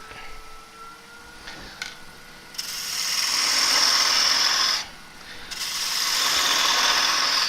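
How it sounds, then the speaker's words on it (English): A 3/8 bowl gouge cuts end grain on a spinning monkey puzzle wood bowl on a lathe, a loud close hissing shear that builds after a quieter start, pauses briefly, then resumes steadily. "I'm going to do most of this with a 3/8 bowl gouge"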